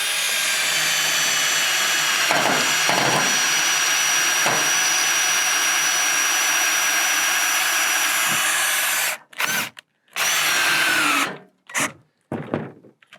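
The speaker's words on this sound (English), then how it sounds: "those self-tapping screws will go through" A power drill drives self-tapping screws through pre-drilled holes in flashing into an aluminum intake shutter, a loud sustained whine for several seconds followed by a few shorter bursts separated by pauses.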